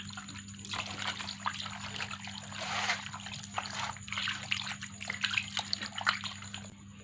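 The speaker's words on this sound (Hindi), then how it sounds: "इसमें पानी डालते हैं।" Water splashes and trickles steadily over raw fish being washed by hand in a home kitchen, with a constant low hum underneath.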